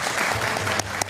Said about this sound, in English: I didn't know they were allowed to applaud.